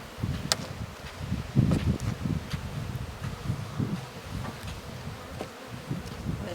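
Honeybees in an opened hive being treated for varroa mites hum with a dense, low, continuous buzz. Individual bees flicker past the microphone now and then, and no one speaks.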